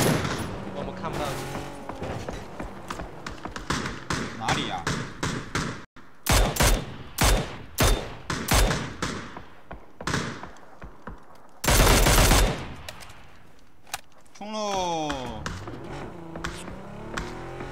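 Gunfire in a shooting video game, heard as rapid bursts and single loud shots in irregular clusters, some sharp and close, with players talking over the fighting.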